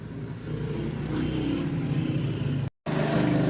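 A Yamaha Mio Soul i 125 motorcycle with a grounded relay fault runs after starting by itself, a steady close engine drone that cuts out for a moment before resuming.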